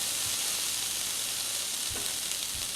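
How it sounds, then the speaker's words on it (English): White shrimp sizzling in a hot cast iron skillet, a loud, constant close frying hiss with a few faint low thumps from the pan. "Cast iron skillet gets hot."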